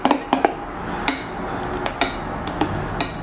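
A ladle stirs thick kundu dosa batter in a bowl, giving a scattered series of sharp metallic clinks and taps against a steady kitchen background, with no talking.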